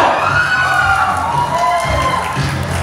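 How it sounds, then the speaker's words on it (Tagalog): A group at a Christmas party claps and shouts together, a loud continuous burst of crowd cheering and voices that holds steady before easing slightly toward the end. "Itong grupong to, magpalakpak na may sigawan ko ba?"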